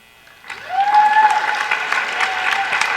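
After a speech at a student fossil-fuel divestment event, applause bursts in after a brief quiet and holds as steady, fairly close clapping with crowd noise and a faint voice.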